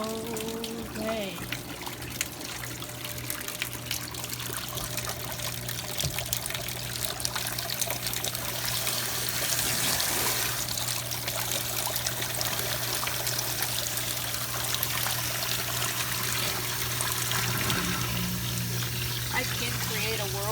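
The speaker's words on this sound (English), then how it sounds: "So a whirlpool washer caused the sink to make a whirlpool kind of thing." Water from a Whirlpool washing machine draining into a sink and swirling into a whirlpool, a steady close gurgling, trickling rush with a low hum underneath, continuous throughout.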